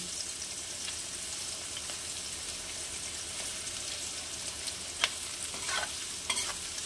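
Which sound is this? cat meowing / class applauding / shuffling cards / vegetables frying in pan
vegetables frying in pan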